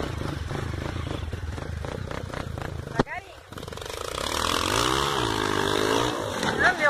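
A motorcycle engine revs up and roars steadily louder on a trail, its pitch rising and falling, with voices speaking over the noise.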